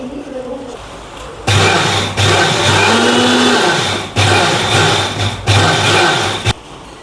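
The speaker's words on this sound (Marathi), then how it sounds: "आता मी बारीक करून घेते।" A mixer grinder whirs loudly as it grinds semolina and sugar fine, running in several steady bursts with short pauses between them, after a quieter start.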